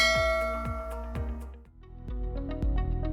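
A notification bell chime rings out in a quick series of bright, clear dings, each with a ringing metallic decay, sounding alone and fairly loud with no voices.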